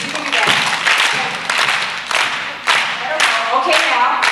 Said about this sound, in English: What I want you to do is all just start to clap hands.